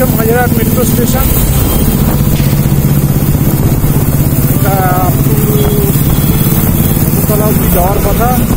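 Motorcycle riding along a Kolkata road near Majerhat metro station, its steady engine drone loud and continuous with passing traffic and horn-like tones around it, while someone talks over the ride.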